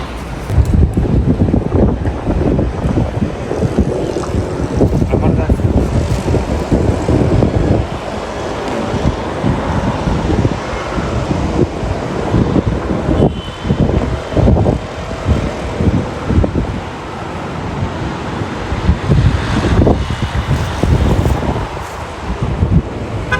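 Seaside beach with strong wind buffeting the microphone and a steady roar of waves, loud and continuous throughout with no voices.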